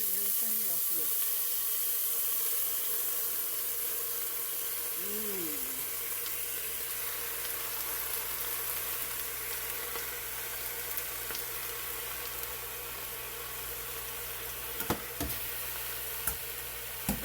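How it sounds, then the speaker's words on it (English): Loud, steady sizzling and hissing of cabbage frying in hot oil, continuous throughout, with a few brief clinks near the end. "what I was saying before the sizzle was so loud"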